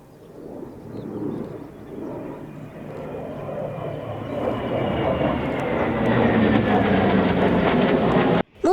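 MiG-29 fighter jets fly low over Ivano-Frankivsk during cadet training flights. A loud jet roar builds steadily over several seconds and ends abruptly, with no voices.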